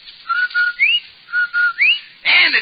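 Whistle jingle from an old NBC radio broadcast: a clear, close whistled tune of short held notes and upward slides in two repeated phrases, followed by a brief burst of noise.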